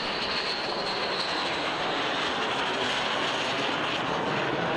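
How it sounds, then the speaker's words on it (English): A B-2 Spirit stealth bomber in flight, a loud, steady, broadband engine roar that fills the whole clip without fading, with no voices. "This is the B-2 Spirit, America's invisible giant"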